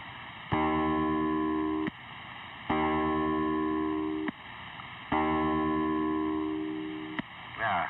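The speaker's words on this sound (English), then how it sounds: "Sierra Charlie-3 Sonar call, which sounds like this." A Sierra Charlie-3 sonar call: a harmonic electronic tone sounds three times, each burst about a second and a half long with short gaps, buzzy and slightly distorted through a small tube radio speaker.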